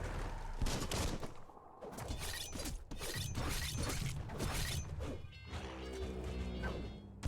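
Rapid gunfire in the video game Biomutant: dense, loud bursts of shots and impacts crowd together almost without pause for several seconds, then thin out near the end.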